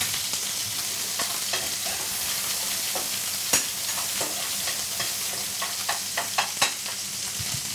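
Venison fillet fries gently with foie gras in a pan, a continuous soft sizzle broken by clicking stirs and scrapes that grow more frequent toward the end.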